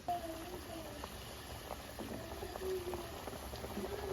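A pot of sodhi curry bubbles at a steady, soft simmer in a home kitchen, with a continuous low boiling texture and faint talk in the background.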